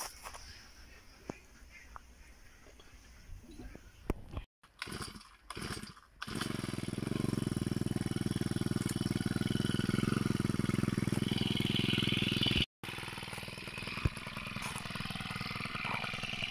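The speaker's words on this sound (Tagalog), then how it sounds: "Pumandar yung makina natin mga kapage." A small engine sputters and cuts out a few times, then catches and settles into a steady, loud buzzing idle that runs to the end.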